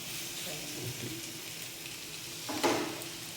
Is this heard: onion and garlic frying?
yes